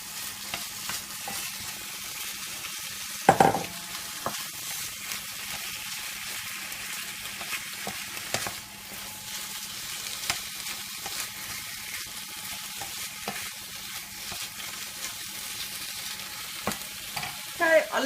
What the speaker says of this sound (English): Get that sizzling.